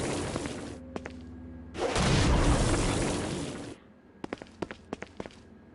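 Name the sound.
blast explosion in a video game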